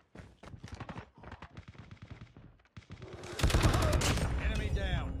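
LK24 assault rifle firing in Call of Duty Mobile, rapid bursts of gunshots that build into a loud sustained volley near the end, with a voice talking early on.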